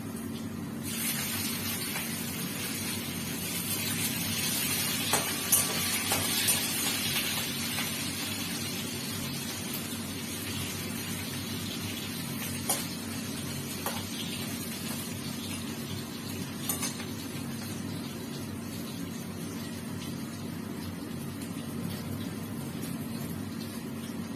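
Ginger and green chili are frying in a pan with already-fried potatoes, giving a steady, fairly soft hiss that runs throughout with a few faint clinks.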